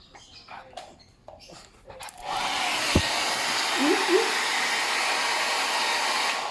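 A hair dryer starts up and blows continuously on a dog just out of a bath, a loud steady whooshing drone after a brief stretch of household sounds and a sharp knock.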